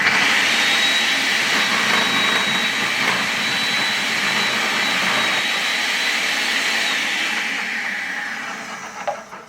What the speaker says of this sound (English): So let's start with some carrot. I'm going to use the faster speed setting for the carrots.